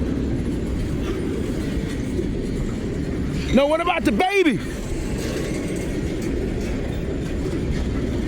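A train rolls past on the railroad with a steady, loud rumble and clatter of wheels, then a brief burst of squealing, whining wheel tones in the middle. A person talks over the passing train.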